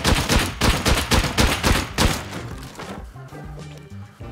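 Rapid gunfire in the game Rust as players shoot at a decayed base, a close burst of cracking shots at a quick rhythm that stops after about two seconds, leaving low rumbling.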